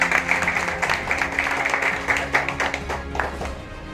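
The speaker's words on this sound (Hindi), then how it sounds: "मैं एक बार चाहूंगा सब लोग जोरदार तालियों से" A crowd claps steadily at a political party event, a dense crackle of many hands that carries on for several seconds without a break.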